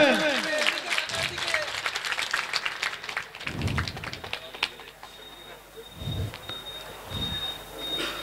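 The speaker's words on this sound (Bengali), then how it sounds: "সবাই একটু করতালি দেবেন।" Hands clap together in a crowd at a community ceremony honouring senior citizens, a dense burst of applause that thins into scattered claps, with voices talking over it.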